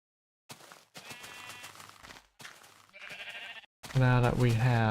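Sheep bleat in a video game world in several short calls separated by brief silences. The final bleat is the loudest and most tonal.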